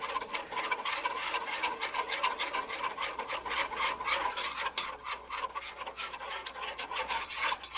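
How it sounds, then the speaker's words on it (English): A spoon scrapes and rubs steadily around a pot as four tablespoons of flour are slowly stirred into a roux for morel mushroom soup, a soft continuous rasping close by. "We're going to start stirring in 4 tablespoons of flour."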